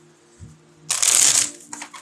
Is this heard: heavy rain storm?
no